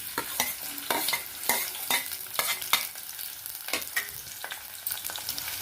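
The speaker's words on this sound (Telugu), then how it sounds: "ఆయిల్ వేడెక్క ఉల్లిపాయలు వేసుకున్నాము" Onions fry in hot sesame oil with a soft sizzle, punctuated by a rhythmic series of close scraping stirs of a spoon in the pan.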